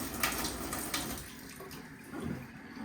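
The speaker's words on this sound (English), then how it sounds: "I'll just rinse with some water again" Running water splashes from a tap over hands, a soft steady rush with a few small splashes, close by and fairly quiet.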